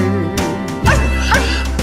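A dog in a shelter gives a few loud, close yips and barks at an irregular rhythm over a steady musical background.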